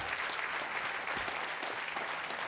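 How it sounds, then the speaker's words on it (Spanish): Steady applause from a church congregation, dense and even clapping throughout at moderate distance with no voices above it. "Si va a aplaudir, apláudale al Señor"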